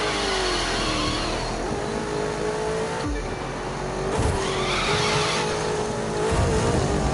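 A Maserati engine revving hard in The Crew 2, loud and close, with rising and falling pitch as it accelerates and shifts, plus a brief skid of tires midway.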